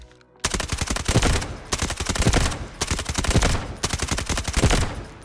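Bizon SMG from the Delta Force shooter game firing in four sustained full-auto bursts separated by brief pauses, loud and up close, with no talk over it.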